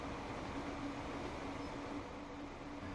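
Trains racing in the Transport Fever video game, a steady, dense rumble of rolling rail cars with a faint tonal hum running throughout, no talking.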